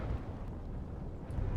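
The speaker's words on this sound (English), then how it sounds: "Bow explosion." A warship's bow blows up in the naval game Sea Power, heard as a dull, continuous low rumble with a faint roar that swells slightly toward the end, no voices over it.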